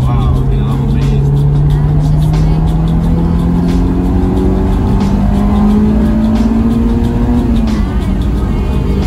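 A Honda S2000 AP2 engine climbs in a long rising rev with steady intake and exhaust roar, then drops off near the end, loud and close.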